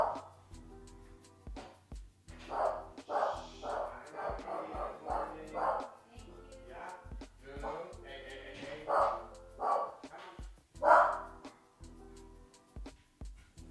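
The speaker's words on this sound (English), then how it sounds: "She barks at the cleaning lady every day that she comes here." A dog named Lulu barks in repeated bursts at a cleaning lady inside a home, the barks fairly close and irregular with brief gaps, and some whimpering between them.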